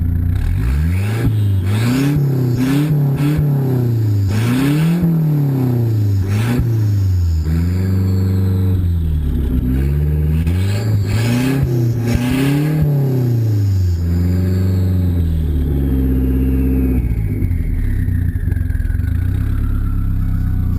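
A car engine with a newly replaced alternator revs up and down repeatedly, climbing and falling in pitch, loud and close with a steady idle rumble between blips.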